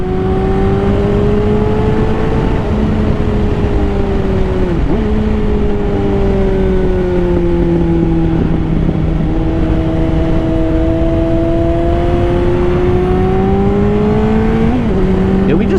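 A 160-horsepower sport motorcycle rides through twisty streets, its engine holding a loud, continuous drone that climbs and dips with throttle and gear changes, with a couple of quick pitch drops, under constant rushing wind.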